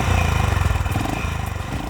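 Honda H'ness CB350 motorcycle with a 350 cc engine, its exhaust note a steady, loud, close-up pulsing thump at idle or low revs, heard alone without talk.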